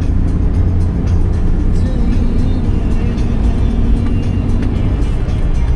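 Suzuki Every VX van with its engine under the seats driving smoothly, a steady, close engine and road rumble that stays constant throughout, with no talk over it.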